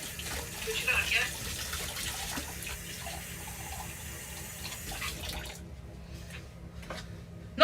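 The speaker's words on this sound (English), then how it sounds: "add the basmati rice with 200 millilitres of cold water" Cold water runs from a tap into a pot for basmati rice in a home kitchen, a faint steady splashing stream that stops near the end, with talk around it.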